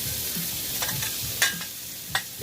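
Bacon frying on a Blackstone flat-top griddle, a steady close sizzle with a few sharp spatula scrapes and taps breaking through, no talk.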